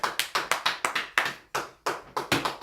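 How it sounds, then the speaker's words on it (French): A church congregation claps in unison to acclaim the Lord, a brisk, steady rhythm of sharp hand claps with a short pause in the middle, loud and close, no voices over it. "acclamons très fort le Seigneur"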